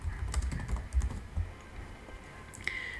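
Typing on a computer keyboard while searching a filter navigator in ServiceNow, a brief flurry of soft close key taps that thins out, then a single later click.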